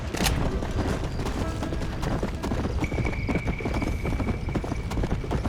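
Horse hooves clip-clop steadily in the Red Dead Redemption: Undead Nightmare video game, a continuous rhythmic trot of close, loud footfalls over ambient game noise, with a sharp crack early on.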